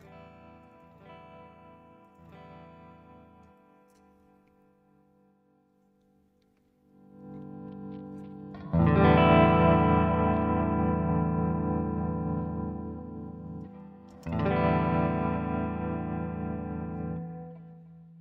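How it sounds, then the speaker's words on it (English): Electric guitar run through a magic mandolin effect in Yousician, with distortion and echo: quiet plucked notes at first, then two loud, sustained, effect-heavy strummed passages ringing out alone. "Is this supposed to make my guitar sound like a mandolin or something?"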